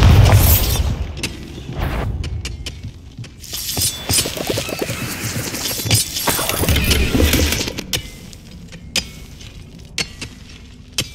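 Bombarda spell explosions in Hogwarts Legacy, a string of heavy booms and crashing, shattering bursts thudding one after another over about eleven seconds, loud and close with sharp debris cracks toward the end.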